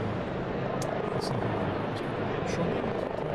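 Helicopters fly over Saint Peter's Square, a continuous broad rotor rumble with faint chopping, steady and moderately loud with no clear voices.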